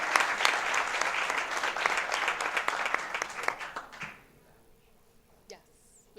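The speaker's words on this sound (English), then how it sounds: "Another round of applause for our teachers" Audience at a school board of education meeting applauding teachers, a lively burst of clapping with distinct individual claps that fades out after about four seconds, leaving a quiet room with a stray tap.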